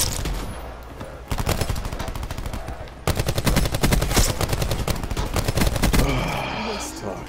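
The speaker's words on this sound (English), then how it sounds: "Switching to the shotgun." Shotgun fire in Call of Duty Black Ops 4 mixed with rapid automatic gunfire, dense repeated blasts in bursts over several seconds, loud and continuous amid game noise.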